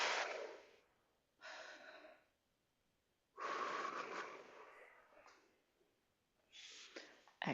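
Heavy breathing during recovery after cardio exercise in a class, with several loud deep breaths of gasping in and huffing out in irregular bursts separated by short quiet pauses, heard up close.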